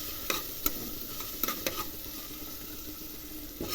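Sliced onion sautéing in hot oil with spices in a pan, a steady sizzle broken by several sharp clicks and scrapes of a spoon stirring, close by, with no voices.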